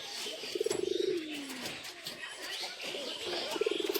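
Pigeons on a roof coo nearby in short, fluttering bursts with a falling coo between them, over soft background chirps and faint ambient noise.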